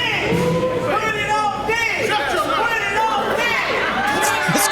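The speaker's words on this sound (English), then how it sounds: "This crowd chanting" Sports fans in a stadium crowd chant and shout together, a dense, loud wash of many voices with rising and falling calls and whoops.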